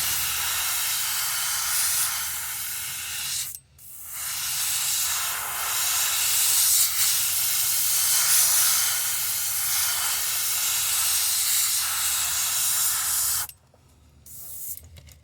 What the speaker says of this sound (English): Now we're just going to spray it over the dark part of that green